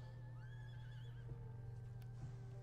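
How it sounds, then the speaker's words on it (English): In the stealth game Metal Gear Solid 3, a horse lets out a faint, wavering whinny lasting about a second, set against a steady low hum and quiet ambient tones. "Here's the horse."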